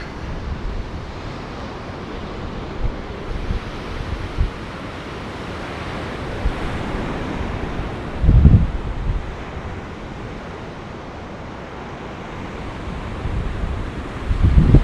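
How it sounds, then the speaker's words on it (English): Rough sea waves at a windy beach near Skiathos: a constant low roar of wind buffeting the microphone, with surf surging up more loudly now and then, and no voices. "Don't know if you can hear the sea behind me or beside me"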